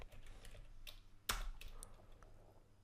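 Code typed on a computer keyboard, soft scattered key clicks with one louder clack partway through, faint and close under a low background hum, with no talking.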